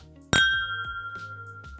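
Two glasses touch in a toast with a single bright clink, followed by a long, clear ringing tone that slowly fades with no voices over it.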